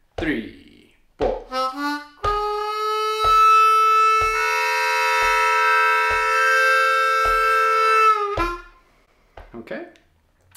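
Brief talking leads into a Bb harmonica playing a lick, with short reedy notes rising into a long sustained tone over regular taps, then a falling close and more voice.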